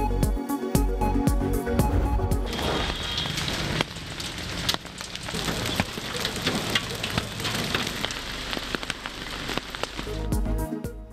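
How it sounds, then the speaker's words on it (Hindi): Steady rain falling in the upper areas of Azad Kashmir, a dense continuous hiss with scattered sharp drop impacts, loud and close throughout. "आज़ाद कश्मीर के बालाई इलाकों में बारिश और बर्फबारी।"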